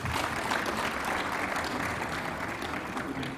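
A conference audience in Zambia breaks into full, steady applause, an even wash of many hands clapping together throughout.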